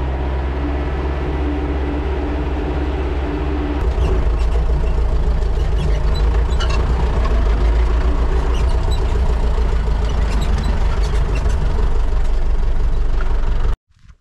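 A tractor engine runs steadily at close range, a deep continuous rumble that grows slightly louder partway through before cutting off abruptly near the end.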